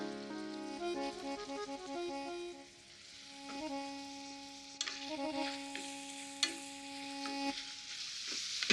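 Onion, garlic, ginger and red chili fry in hot oil, a soft continuous sizzle under a steady musical tone, with a few sharper clinks and stirring noises.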